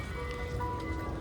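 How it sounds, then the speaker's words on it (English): An ice cream truck at a school in Clovis, California plays its chiming jingle, a faint tinkling melody over low rumble and background noise, with no one speaking. "Oh wow, there's an ice cream truck here, guys."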